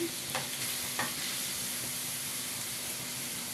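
Faint, steady sizzling from a pan frying ingredients for a rose petal chaat, with a couple of light stirring clicks near the start.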